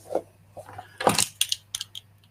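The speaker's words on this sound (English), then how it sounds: "Car keys" A bunch of car keys is picked up and set down, giving a few short bright metallic jangles and clinks in quick bursts, close by in a quiet room.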